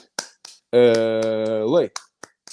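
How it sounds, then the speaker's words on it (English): A UCLA Bruins fan's eight-clap cheer: a few sharp, close hand claps separated by a long, loud held vocal tone, with more single claps after it. "So get your hands up, Bruins fans. 8 clap time, baby."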